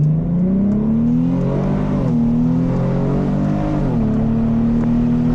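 A car engine revs hard through paddle-shifted gears. It gives a loud, close, continuous whine that climbs steadily, drops at each shift, then climbs again several times.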